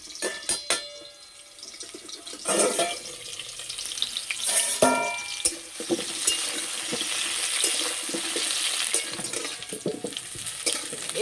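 Potatoes frying in oil in a kadai for Kashmiri aloo dum, a steady close sizzle broken by clattering stirs and scrapes of a utensil, with no talk.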